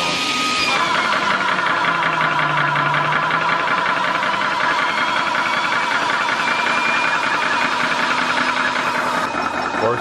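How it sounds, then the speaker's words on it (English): A ToAuto A3 PCP high-pressure air compressor runs continuously with a steady, dense mechanical drone and hum, loud and close, with a slight shift in tone as it starts up. "Now I'm gonna turn the compressor on."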